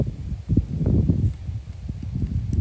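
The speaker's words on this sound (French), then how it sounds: "Le vent se lève." Wind rises over an open field and buffets the microphone in low, uneven rumbling gusts that run throughout, with no talking.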